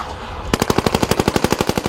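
Loud, close automatic gunfire at a wedding erupts after a brief quiet moment into a rapid, evenly spaced stream of sharp shots that continues to the end.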